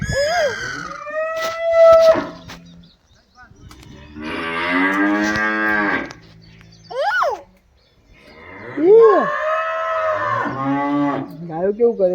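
Cows in a farm cattle shed give several long, loud moos, some rising and falling in pitch, with short pauses between calls.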